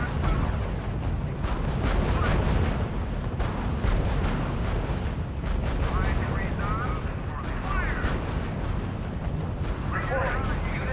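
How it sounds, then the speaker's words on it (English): Continuous gunfire and booming artillery from the RUSE strategy video game form a dense, loud barrage of rolling blasts and rapid shots, with voices talking over the combat. "Unit under sustained fire"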